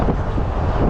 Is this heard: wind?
yes